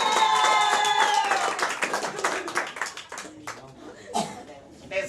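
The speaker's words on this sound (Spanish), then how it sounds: "¡Un fuerte aplauso!" Clapping and applause from a live audience ring out after an announcer's call, loud at first and then thinning into scattered claps and murmurs, with a voice talking over the start.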